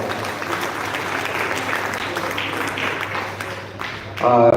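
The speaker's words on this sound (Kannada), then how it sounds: "ನಮ್ಮೆಲ್ಲ ಸಭಿಕರಿಂದ ಮತ್ತೊಮ್ಮೆ ದೊಡ್ಡ ಚಪ್ಪಾಳೆ" An audience claps steadily for a group of singers at a memorial tribute event, a dense continuous patter of many hands that fades slightly before a louder burst at the end.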